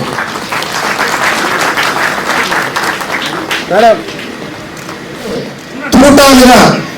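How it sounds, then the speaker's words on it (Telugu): An audience applauds at a felicitation ceremony in Ongole, a dense steady clapping that continues throughout under someone speaking over a loudspeaker, swelling briefly louder near the end. "అందరూ గట్టిగా చప్పట్లు పెట్టండి"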